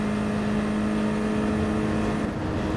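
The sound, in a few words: Nissan race car accelerating out of a corner in video game GT Sport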